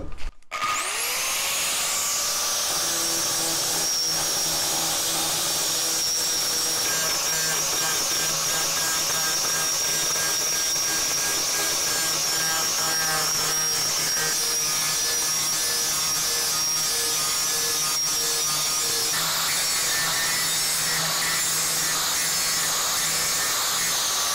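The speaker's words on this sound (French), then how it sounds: "avec ma meuleuse, je vais décaper la peinture pour pouvoir le repeindre" Angle grinder stripping old paint off a metal tube, a loud sustained high-pitched whine after a quick spin-up, steady and close with a grinding rasp underneath.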